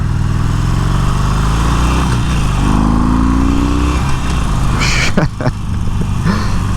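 A 2018 Harley-Davidson Sportster 48 fitted with a high-flow air cleaner and FP3 tuner sends out a loud, close, continuous engine roar that rises in pitch through a rev and then dips briefly.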